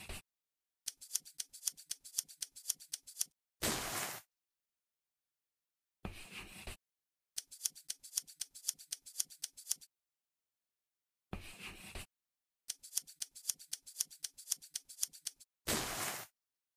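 Scissors cutting out clothing pieces in a sewing dress-up video game: runs of quick, crisp snips come in several bursts separated by silent gaps, with short, louder swishing noises between the runs.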